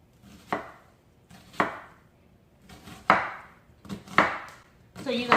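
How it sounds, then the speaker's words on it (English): Knife chopping bell peppers on a cutting board in a home kitchen, five sharp separate strokes spaced about a second apart, close and clear with quiet gaps between. "You want to chop these up, you know, pretty fine"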